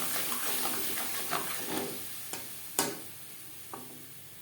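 Grated coconut and green chili paste fry softly in a pan over low to medium flame, a faint steady sizzle with a few sharp stirring scrapes and clacks of the utensil.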